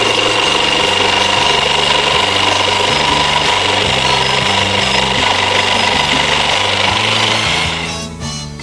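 A power saw cuts wooden pieces for a homemade wooden wheelbarrow, a steady loud motor whine running continuously with no talk, easing slightly at the very end.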